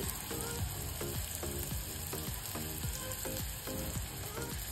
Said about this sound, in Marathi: आता मी टाकलेला आहे बारीक चिरलेला कांदा, कढीपत्ता,